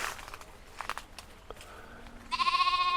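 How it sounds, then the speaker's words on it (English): Sheep and lambs bleat from a field just behind a garden, a few scattered calls at first and then a loud, sustained bleat close by, with faint outdoor background. "you can probably hear the sheep and the lambs"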